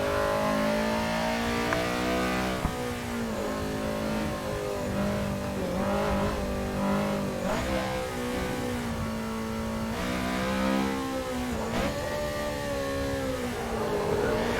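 A Honda Civic 86 race car in Assetto Corsa revs hard around Cadwell Park, its engine climbing and dropping through the gears with brief lifts between pulls. The engine sounds loud and steady throughout, with no voices.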